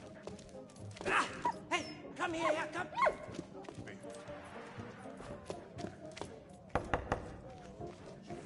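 A dog barks in the video game Valiant Hearts, a cluster of short, sharp barks and yips early on, then fainter sounds under game ambience and a voice speaking.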